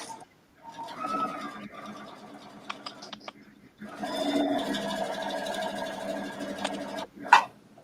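A sewing machine stitches in the ditch along the edge of a fold on an apron, giving a steady mechanical whir in a couple of runs with short pauses and a sharper burst near the end.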